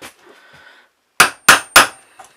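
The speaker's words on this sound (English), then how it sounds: "I've just made a hollowing in so that I can tap the bearings out." Bearings are tapped out of a bicycle suspension linkage resting on a hollowed wooden block: three sharp, close hammer taps in quick succession after faint handling noise.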